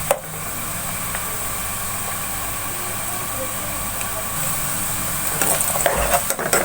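Onions browning in a pan on a stove turned up high for dhaba-style daal, a continuous frying hiss with occasional stirring scrapes and clatter toward the end, with a voice speaking over it.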